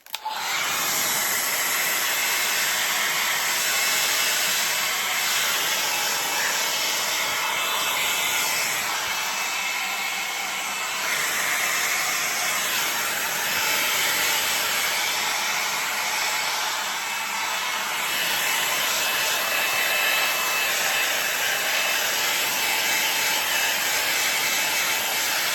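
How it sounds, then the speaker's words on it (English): A heat gun blows steadily while shrink wrapping a plastic bag, a loud continuous airy roar and hiss lasting throughout with slight swells as it is moved around, no voices. "when you're shrink wrapping, make sure to keep your heat evenly distributed, which means you need to move around"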